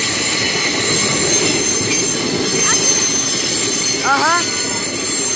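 A MRS Logística freight train rolls past close by, a steady loud rumble of railcars with high wheel squeals and screeches breaking through, while a man briefly murmurs over it.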